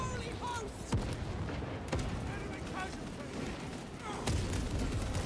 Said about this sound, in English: A well-placed grenade will fix that.